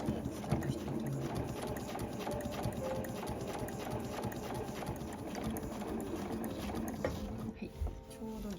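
A home sewing machine stitching heavy canvas for a zippered two-way tote bag: a steady, fast mechanical chatter of the needle running evenly throughout at moderate level, easing off briefly near the end.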